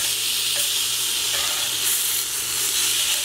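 Honey-mustard steelhead trout sizzles on a grill, a dense, even frying hiss that stays at a constant loudness for the few seconds heard.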